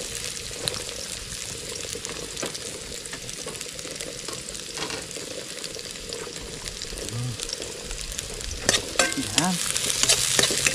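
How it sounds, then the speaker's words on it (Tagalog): Fish frying in a pan sizzles steadily and close by, with scraping strokes of stirring throughout and a louder burst of spatter near the end; someone briefly speaks once. "Haluin muna natin hanggang sa maging golden brown."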